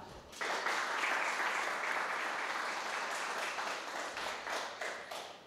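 Audience applause for young dancers from a dance group at a cultural awards ceremony in Barlinek, Poland, bursting in after a brief quiet and continuing as steady clapping that gradually thins toward the end.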